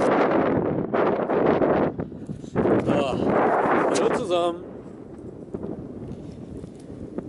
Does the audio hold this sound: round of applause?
no